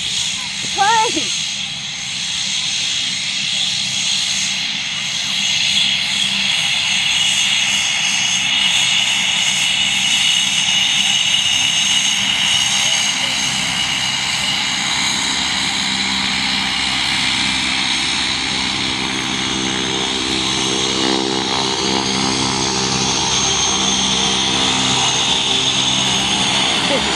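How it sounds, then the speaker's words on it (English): A propeller airplane drones steadily overhead at a skydiving site, a loud continuous engine roar that persists throughout, with people's voices shouting under it. "Here comes the airplane!"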